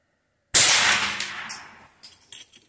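A single sharp .22LR shot from a Golden Eagle 40-grain high-velocity round, fired outdoors at a soap target 50 metres away, cracks loudly and decays over about a second, followed by a couple of faint clicks.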